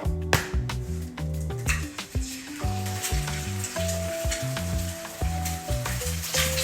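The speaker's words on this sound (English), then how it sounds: "A bit more olive oil for the eggs. Crack your egg." Egg frying in olive oil in a pan makes a steady sizzle and crackle throughout, partly masked by loud rhythmic background music with a repeating bass line.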